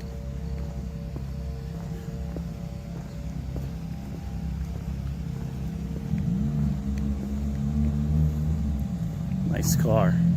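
A car drives past at night on a town street near a city hall, its engine rising in the second half over a steady low rumble of traffic and distant machinery, with no talk.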